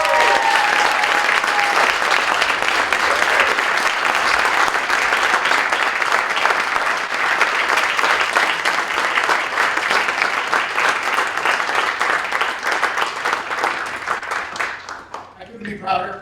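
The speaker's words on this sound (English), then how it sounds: "Big round of applause for these ladies." A crowd at a high school award ceremony gives the award recipients a sustained round of applause, loud and even, fading near the end.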